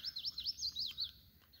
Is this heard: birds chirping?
yes